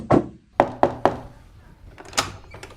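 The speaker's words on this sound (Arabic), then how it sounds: "روحي توكلي على الله افتح الباب" Four firm knocks land on a door at home in quick succession, followed by softer thuds and a clunk as the door is opened.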